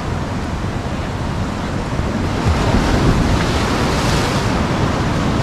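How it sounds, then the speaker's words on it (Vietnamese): Ocean waves crash steadily onto the rocky shore at Tanah Lot in Bali, a loud continuous roar of surf mixed with wind buffeting the microphone, with no voices. "Đứng ở chỗ cái cờ này và đợi sóng xô vào mạnh để chụp lấy một bức ảnh bắn tung tóe."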